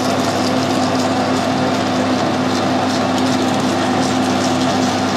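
A lathe parting tool is fed by hand into gammon. The cut makes a loud, steady machine hum with a constant whirring tone and no breaks.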